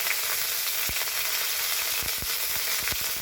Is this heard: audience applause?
no